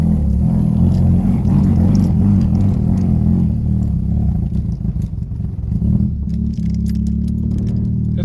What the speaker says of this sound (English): The car just keeps bucking out.